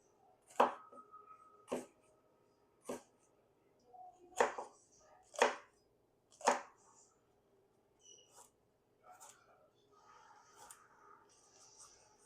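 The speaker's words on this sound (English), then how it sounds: "we are going to just slice up these peppers, the garlic, and some red onion" Peppers, garlic and red onion sliced on a cutting board, about seven sharp knife chops spaced a second or so apart, then softer scattered taps and handling sounds, close and fairly quiet.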